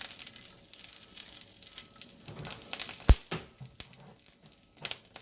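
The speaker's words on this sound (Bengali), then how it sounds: "একটু ফুটে উঠলেই আমি দিয়ে দিব শুকনা মরিচ আর পেঁয়াজ দিয়ে দিচ্ছি" Dried chilies and onion hit hot oil with kalonji seeds, giving a quiet crackling sizzle with sharp pops and a few stirring scrapes, close and without speech.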